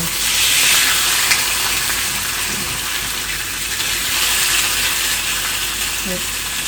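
A steak frying in a pan gives a steady, fairly loud broadband sizzle that runs throughout without a break, with faint clinks and stirring noises near the end.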